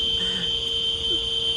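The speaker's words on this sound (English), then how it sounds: "some kind of alarm just went off" An alarm sounds at night with a vacuum cleaner running somewhere, giving a steady, continuous electronic tone held at a constant pitch above a low background hum throughout.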